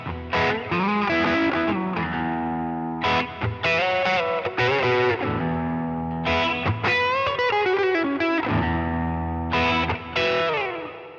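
Electric guitar run through a Line 6 Helix modelling the King of Tone overdrive, with an amp model and reverb added, playing loud, sustained distorted chords and riffs in phrases with short gaps between them.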